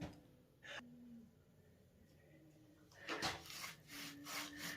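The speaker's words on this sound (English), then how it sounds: "I'm just rubbing on the wall side first. Just rubbing it down and smoothing it off" Rubbing down and smoothing an adobe wall gives soft, faint scraping strokes with gaps between them, growing a little louder and more frequent toward the end.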